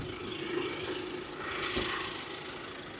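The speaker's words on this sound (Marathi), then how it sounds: "2 लिटरचं ट्विन टर्बो इंजिन याच्यात पाहायला मिळतं. जे याचा आवाज तुम्ही बघा" A 2026 MG Majestor SUV's 2-litre twin-turbo engine idles with a steady low rumble and slight rattle, briefly swelling louder as if lightly revved, with no voices.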